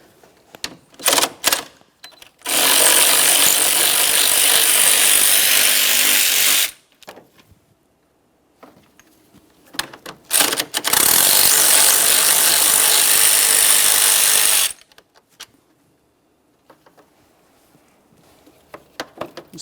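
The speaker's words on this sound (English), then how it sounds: "you're going to find that you have two 10mm bolts holding this fan in place" A ratchet spinning out two 10mm bolts holding the radiator fan on a 2012-2015 Honda Civic 1.8L I4, heard as two long, loud, steady bursts of rapid clicking, each led by a few short clicks and separated by quiet pauses.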